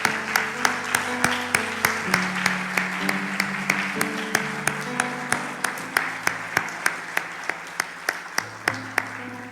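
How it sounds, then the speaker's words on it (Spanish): A church congregation claps together in a steady rhythm over music with sustained chords, the applause lively and continuous throughout. "Un fuerte aplauso para Jesús."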